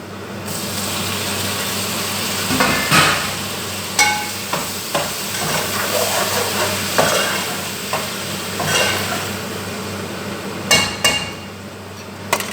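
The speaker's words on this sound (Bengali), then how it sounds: "টমেটোটা আমার কষানো হোক, হয়ে গেছে আমার টমেটো কষানো" Chopped tomato frying with onions in a pan, a loud continuous sizzle with frequent scraping and knocking stirs of a spatula against the pan, no voices.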